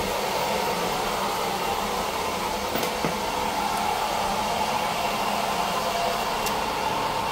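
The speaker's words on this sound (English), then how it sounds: "This is an Imperial electric motor, 60 horsepower." A 60 horsepower Imperial electric motor driving the pump of a Kone/ITI hydraulic elevator in a machine room, a steady loud broadband whir and hum running throughout with a faint click, no talk.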